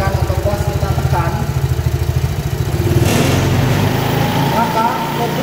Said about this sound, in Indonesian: saat putaran mesin kita naikkan atau pas kita tekan